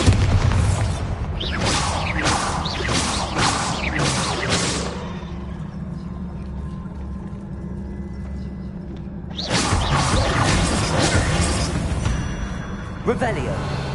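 Confringo and Bombarda spell blasts from the Hogwarts Legacy video game fire in a loud, rapid burst of several booming impacts, then a quieter low rumble before another cluster of explosive hits near the end.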